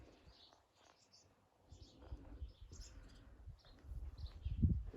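Birds chirp and coo faintly inside an abandoned house, scattered short calls over a low, quiet room tone, with some soft thuds and rustling near the end.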